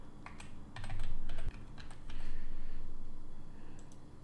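A new root password is typed on a Mac computer keyboard in a short run of close, quick key clicks.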